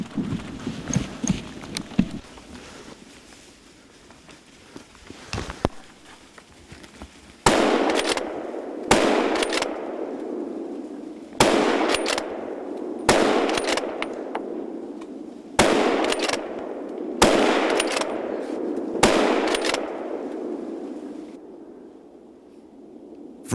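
Rifle shots from a Sauer rifle during a wild boar hunt, about eight sharp, loud reports spaced a couple of seconds apart over a quiet outdoor background, with no talk.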